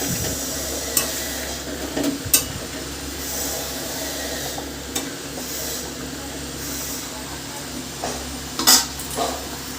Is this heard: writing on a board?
no